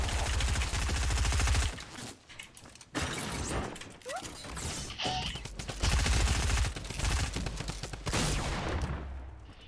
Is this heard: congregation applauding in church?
no